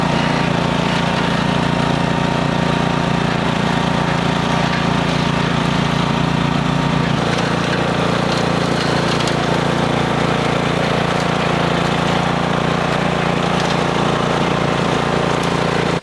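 Big brush mower clearing heavily overgrown land: a loud, continuous engine drone close by, with a slight shift in load partway through and no talking.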